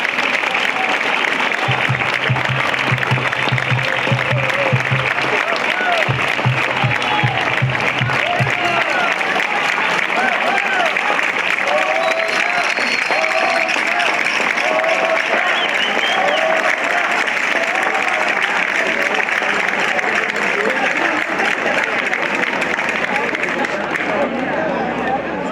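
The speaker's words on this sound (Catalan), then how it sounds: "Un fort aplaudiment." Long, sustained applause from an audience at a farewell event, a dense, even wash of clapping with crowd murmur underneath and a low hum briefly audible early on.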